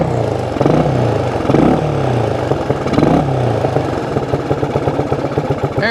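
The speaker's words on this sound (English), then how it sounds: "See if I can get her to idle a little bit better." A Honda XL175 motorcycle idling in snow, its single-cylinder engine putting along unevenly with a few throttle blips, then settling into a steady chugging rhythm, loud and close.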